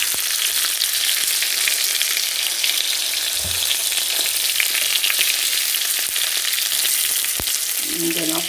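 Rabbit pieces fry and brown in a pan with a dense, steady sizzle throughout, up close and loud, broken only by a few faint clinks near the end.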